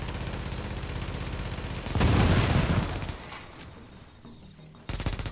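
Dense bursts of automatic gunfire in The Division video game, a loud continuous volley that swells into a heavy barrage before thinning out and returning.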